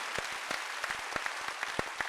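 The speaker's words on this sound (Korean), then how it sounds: "박수로 하나님께 영광입니다" A congregation at a Korean Sunday worship service claps quietly, sparse, irregular hand claps heard faint and somewhat distant for a couple of seconds.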